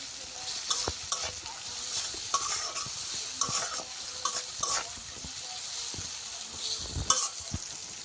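Shrimp and grated coconut frying in a pan while being stirred, a steady sizzle with repeated scraping strokes of the spoon throughout, fairly close and moderately loud.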